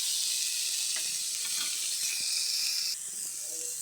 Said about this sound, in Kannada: ಟೊಮೊಟೊ ಈರುಳ್ಳಿ ಎಲ್ಲ ಉರಿತಾ ಇದೆ.